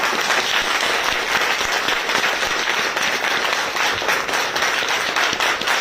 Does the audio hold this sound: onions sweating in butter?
no